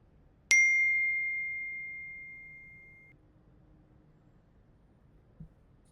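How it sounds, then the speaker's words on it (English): A single bright electronic ding of an incoming mail notification on a wrist computer rings out clearly and then decays slowly over a couple of seconds in an otherwise quiet room. "Sounds like you got a mail, sweetheart."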